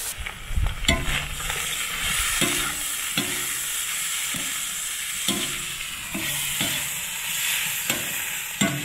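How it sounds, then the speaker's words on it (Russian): Onion and meat sizzle steadily in a hot cauldron over a campfire while a utensil scrapes and stirs at irregular intervals, the frying hiss constant throughout. "когда лук только-только с мясом начинает поджариваться"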